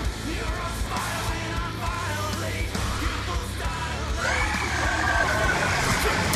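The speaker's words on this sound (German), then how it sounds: "Dann schreit der letzte Zombie ja, wenn er der letzte ist." Zombie screeching in Black Ops 2 Tranzit zombies mode, a rising harsh cry that lifts over a steady bed of game noise and engine rumble, continuous and fairly loud.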